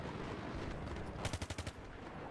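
Automatic gunfire in Battlefield 3, a quick burst of about six evenly spaced shots standing out over a steady background din of battle noise.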